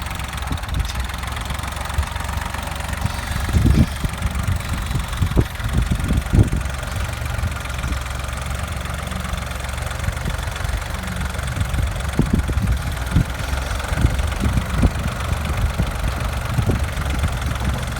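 A tractor engine idles steadily and loudly throughout, a continuous low rumble with faint knocking pulses and a few brief clanks, no voices.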